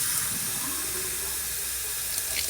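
Water runs from a kitchen tap into a sink while rice is being prepared for cooking, a steady faint rushing hiss throughout, with no voices over it.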